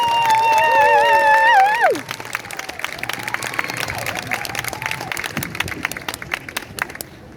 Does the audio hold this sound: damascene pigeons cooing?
no